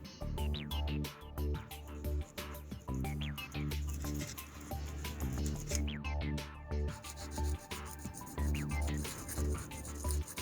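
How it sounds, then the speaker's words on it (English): Sandpaper rasps in rhythmic back-and-forth strokes over dried super glue on a plastic Dragon Tiger I Late Production scale model kit, close and steady with brief pauses, no talking. "I'm going to sand that away until it's smooth, and that will hide any fine seams."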